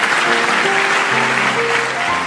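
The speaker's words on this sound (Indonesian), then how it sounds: "Yang percaya kasih tepuk tangan untuk Tuhan." Church congregation applauding for God during a worship service: a dense, steady wash of clapping that continues for the whole stretch, with sustained musical tones ringing underneath.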